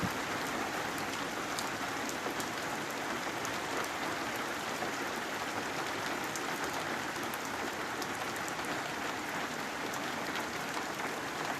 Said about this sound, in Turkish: Daha sabaha kadar çok yağmurlar yağacağı görülüyor.